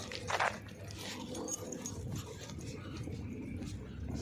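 Dogs outdoors at a spot where they are brought for walks, with a short bark-like burst near the start and then steady open-air background noise.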